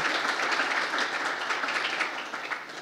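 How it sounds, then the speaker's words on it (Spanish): An audience at a regional technical dialogue on prison management in Latin America gives a panelist a burst of dense, sustained applause that gradually fades toward the end. "Le invito a que demos un caluroso aplauso también a nuestro primer panelista presentado."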